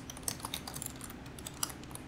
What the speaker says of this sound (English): And here I'm going to type